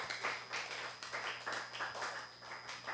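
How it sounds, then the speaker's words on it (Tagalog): A church congregation claps in a steady, rhythmic beat during a worship service, about two claps per second, moderately loud and even throughout, with a faint constant electronic hum beneath. "pong malakas na palakpak para sa ating Panginoon"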